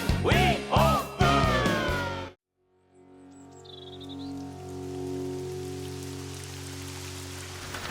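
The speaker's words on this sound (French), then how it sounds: "Moi, ça me déprime toute cette pluie." Brief voices at the start give way to a moment of silence, then steady rain patters softly with a faint chirp in the background.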